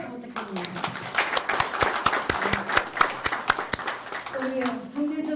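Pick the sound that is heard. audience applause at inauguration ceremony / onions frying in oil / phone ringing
audience applause at inauguration ceremony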